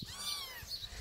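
A mother cat gives a short, close meow near her kittens, a single high rising cry heard clearly with no talk over it.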